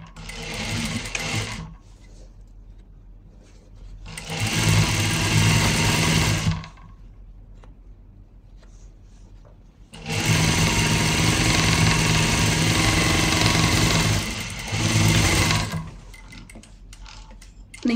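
An electric sewing machine stitches fabric pieces of a skirt in two long bursts of fast, loud, even whirring and needle chatter, with short quieter runs and pauses between them.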